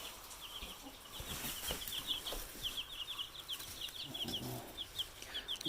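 Chickens on a farm clucking and chattering continuously, a flock of soft, fairly faint calls with occasional wing flaps, no talk.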